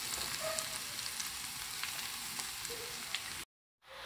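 Oyster mushrooms frying with garlic and onion in a pan, a steady soft sizzle with faint pops and crackles, quiet and even, cutting out abruptly near the end.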